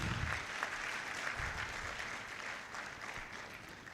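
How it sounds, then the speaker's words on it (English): Audience applause at a university college orientation programme for fresh students, a steady wash of clapping at moderate level lasting throughout, fairly distant and even. "Shall we give her another round of applause?"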